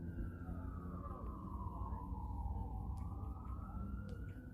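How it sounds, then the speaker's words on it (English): An emergency vehicle siren wails in a busy area prone to car accidents, its sustained tone sliding down and back up against a constant rumble of traffic, with faint clicks on top. "Hear the sirens."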